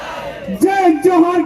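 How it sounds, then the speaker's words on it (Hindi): A crowd at a village assembly rally shouting the slogan Jai Johar, two short loud voiced bursts in quick succession. "जय जोहर का नारा है,"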